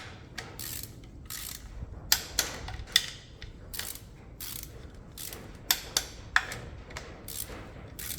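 A torque wrench clicks repeatedly as bolts are torqued during a cambelt change on a 2019 Skoda. Sharp ratchet clicks stand out close by over a low mechanical rattle, with no voices.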